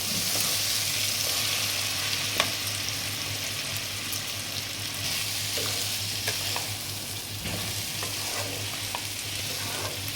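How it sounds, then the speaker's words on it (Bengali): Gobindobhog rice coated in ghee and sugar hisses and crackles steadily as it is stir-fried in a pan for a prawn pulao, with a constant close sizzle, occasional scraping stir strokes, and a low hum underneath. "আমার ঘি চিনি দিয়ে মাখিয়ে রাখা চালের মিশ্রণটা এবার আমি দিয়ে দেবো"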